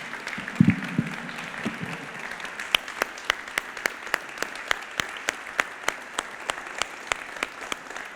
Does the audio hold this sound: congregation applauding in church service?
yes